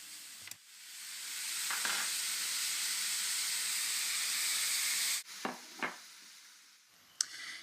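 Seasoned steaks brushed with olive oil sear in a hot pan, a loud steady sizzle that swells in and holds for several seconds, then breaks off into a few short bursts of crackle and movement.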